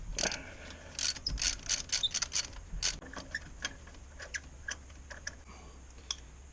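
A ratchet with a plug socket and long extension clicks in short, quick bursts while working a spark plug loose on a Yamaha Super Tenere motorcycle, close and fairly quiet with no talking.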